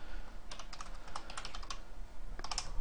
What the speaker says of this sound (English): while I'm typing this out here